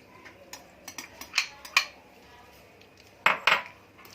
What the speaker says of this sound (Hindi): थोड़ी सी कीवी काटी थी, 1 कीवी है ये, हमने ये भी ऐड कर देंगे। मिक्स कर लेते हैं।